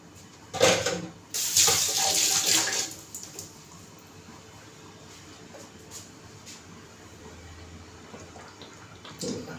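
Tap water runs in short bursts as hands are washed of salt in a home kitchen, splashing loudly for about two seconds before fading to a quiet room tone.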